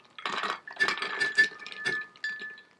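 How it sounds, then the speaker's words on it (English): Peeled almonds poured into a blender jar for almond milk, giving a quick run of hard clinking and rattling bursts close by, with a faint steady tone underneath and no talking. "We just go with these peeled almonds right into the blender."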